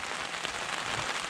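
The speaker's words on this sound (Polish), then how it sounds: "Kolejny poranek i kolejny deszcz." Steady rain falls on a gray morning at an old Maginot Line site, a dense even hiss of drops hitting surfaces with no voices or other sounds.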